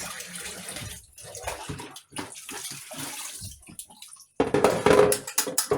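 Fish fillets are rinsed by hand under a running tap, with splashing water and intermittent gushes close by, pausing briefly before a louder, steady stream near the end.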